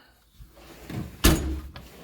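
A short toolbox drawer slides and shuts with a firm clunk, followed by a faint rattle; quiet surroundings, no talking.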